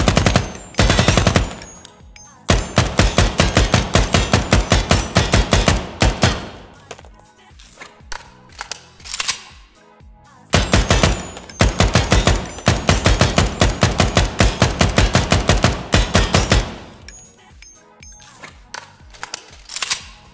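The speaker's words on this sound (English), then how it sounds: "And the other weapon is the AKM." An AKM rifle fires in the tactical shooter game Ground Branch, two long fully automatic bursts of rapid, loud, close shots separated by a brief pause, with a short burst at the start.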